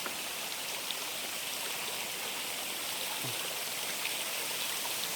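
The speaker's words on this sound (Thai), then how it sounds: "น้ำตก" A waterfall in Phu Khao Khwai national park pours in a constant broad hiss and splash, steady and enveloping throughout with no talk over it.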